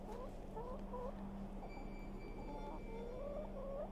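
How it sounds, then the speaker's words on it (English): A rooster in the adventure game The Excavation of Hob's Barrow gives repeated soft clucks and rising warbles over a steady low game hum and faint tones, no talking. "I do not wish to harass the rooster."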